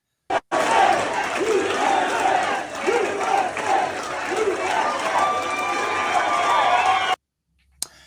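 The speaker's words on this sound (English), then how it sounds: "This is backstage, the crowd chanting for President Trump" A large rally crowd for President Trump chants and roars from backstage, a dense, loud, continuous wall of voices with rhythmic swells, cutting off abruptly after about seven seconds.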